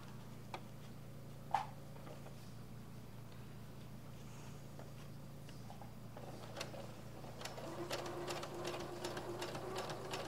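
A home sewing machine stitches with the presser foot down, a soft mechanical ticking and whirring that runs steadily near the microphone, with a sharp click early on and busier, faster stitching toward the end.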